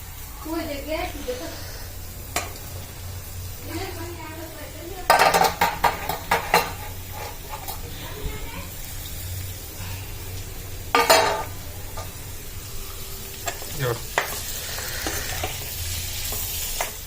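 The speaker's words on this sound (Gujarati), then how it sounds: "ગેસ ધીમો કરી દો ડુંગળી નાખી દો" Onions tossed into a pan over a low gas flame in a village kitchen, sizzling and crackling close by, with spoon clatter and sharp metallic knocks against the pan, while people talk in the background.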